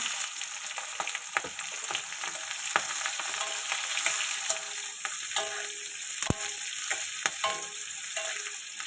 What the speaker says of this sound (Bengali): গোটা জিরে পেঁয়াজ কুচিগুলো দিয়ে দেব